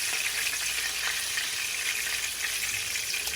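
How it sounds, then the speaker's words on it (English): Pork chops fry in hot oil in a pan, giving a steady, close, crackling sizzle with small pops throughout and no talking. "we need to fry the rest of our pork chops"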